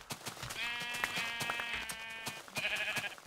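Sheep in the video game Minecraft bleat several times in overlapping wavering calls, faint and mid-distance over a steady ticking of game sounds, with no talking.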